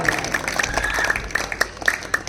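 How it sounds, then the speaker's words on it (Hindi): Applause from the audience at a village Ramlila award ceremony: a short, ragged burst of hand claps with sharp individual slaps standing out over a dense crowd wash. No one speaks. "इनके लिए जोरदार तालियां।"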